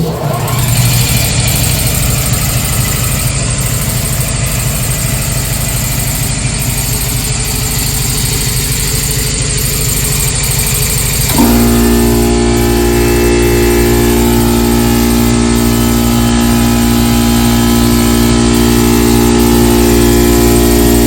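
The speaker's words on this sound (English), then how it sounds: "let's take a look at the Eaton air compressor as compared to a normal air compressor in volume" An Eaton air compressor runs steadily inside an aircraft hangar, a loud continuous mechanical drone that shifts midway into a higher, more tonal hum and keeps going without pause.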